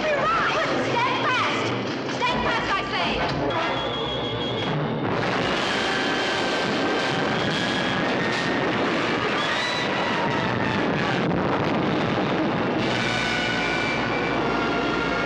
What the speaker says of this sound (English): Acme rocket engines have the fastest reverse gear in the galaxy.